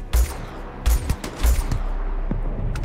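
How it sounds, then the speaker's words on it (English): Turrets fire in a modded Starfield game, loosing several sharp, heavy bursts of gunfire close by with brief gaps between them over a rumbling background. "they're really turning on the turrets, aren't they?"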